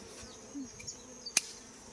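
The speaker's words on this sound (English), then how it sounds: "Here's me holding bees." Bees from a wild swarm being rehomed in Hawai'i, a faint, close buzzing over quiet outdoor background with a sharp click or two near the end.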